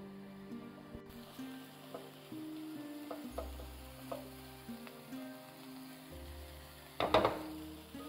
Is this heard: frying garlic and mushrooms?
yes